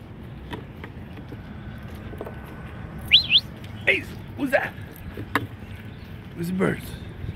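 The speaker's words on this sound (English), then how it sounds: "Birds." Birds chirp in a park, a few separate bright calls and short trills scattered over steady outdoor background noise, moderately close, with no speech.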